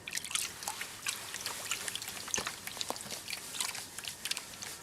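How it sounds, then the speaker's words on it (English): Gold ore sample panned in water, with soft trickling and sloshing plus scattered gritty clicks of gravel shifting in the pan, quiet and close with no voices. "I'm going to pan the whole sample out in one hit"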